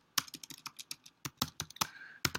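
Close, quiet clatter of a computer keyboard as a command is typed, about fifteen sharp keystrokes in uneven quick bursts with short pauses, no talk.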